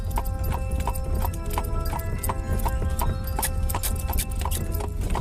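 Horse hooves clip-clop in a steady, brisk rhythm as the animal pulls along at around nine miles an hour, close and continuous with a faint whinny-like touch and no talk.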